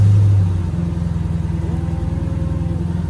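A 2009 Mercedes-Benz SL550 engine idles close by with a loud, low, steady rumble and rhythmic pulsing, after a brief higher rev at the start.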